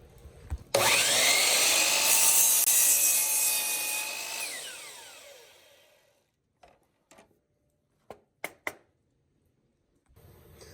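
Hand saw cutting a 1-inch-wide wooden board to length for a bird house, a steady loud rasping run of about five seconds that fades out, followed by a few sharp knocks and clatters of wood.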